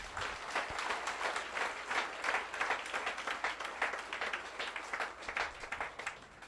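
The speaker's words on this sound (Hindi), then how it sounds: "तो ये कंपनी के लिए एक जोरदार तालियां बजा दीजिए।" Indoor audience at a motivational talk breaking into sustained applause, many hands clapping in a dense, steady wash at moderate distance.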